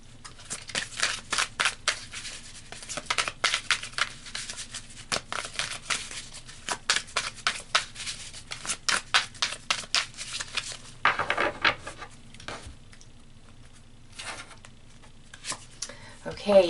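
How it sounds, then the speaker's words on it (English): Tarot cards are pulled and shuffled close up in a series of quick, papery flicks and rubs. The light bursts come in irregular clusters, then thin out toward a pause near the end. "So let's pull some more cards and keep adding to this."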